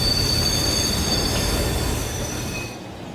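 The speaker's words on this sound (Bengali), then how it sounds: "ঠিক তখনই ট্রেন ডোভার টাউনে এসে থামল।" A train pulling into Dover Town station: a loud, continuous rolling rumble with high, thin wheel squeals drawn out over it, slowly easing off as the train comes to a halt.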